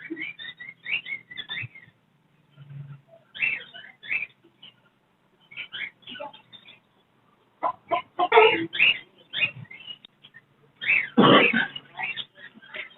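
Hens clucking at a Sunday bird market in Chichawatni with heavy egg-laying hens for sale, in irregular bursts of clucks and calls at close range, louder near the end, with no speech.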